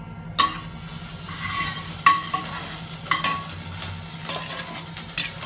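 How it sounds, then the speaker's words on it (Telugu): Ginger garlic paste is stirred in a hot frying pan for coconut milk rice, a soft sizzle broken by a few sharp spatula scrapes against the pan. "అల్లం వెల్లుల్లి పేస్ట్ వేసేస్తున్నాను. ఇప్పుడు దీన్ని మిక్స్ చేసేసుకుంటున్నాను."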